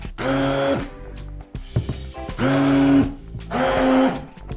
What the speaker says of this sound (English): I feel like I'm going to destroy the blender. It's not going very well.